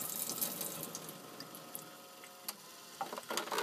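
Water poured out of a Jobo film developing tank during black-and-white film processing, a soft close splashing rush into a sink that trails off into drips.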